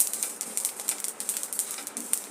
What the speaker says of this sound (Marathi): असा तडतड आवाज आला ना, मग आपले तीळ चांगले भाजून झाले.